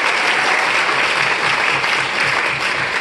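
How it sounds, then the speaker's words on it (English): A crowd gives a round of applause at a congressional event honoring Alcee Hastings, a loud, continuous wash of many hands clapping that holds steady from start to finish. "So Barbara and her team will do another round of applause"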